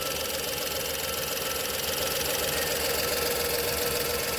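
Petrol 1.2-litre engine in a VW Polo idles steadily with the injector wire bypassed, a continuous close mechanical hum with faint ticking knock running throughout, no voices.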